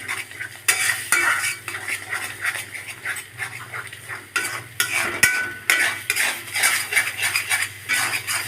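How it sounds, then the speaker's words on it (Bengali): A utensil scrapes and clatters steadily in a pan on high heat, stirring beaten eggs into small fried pieces for egg paratha. A soft sizzle runs underneath the rhythmic, close-up stirring, and no one speaks. "এই পর্যায়ে চুলাটা হাইটে রেখে নেড়ে চেড়ে ডিমগুলি ভাজা ভাজা করে নিব।"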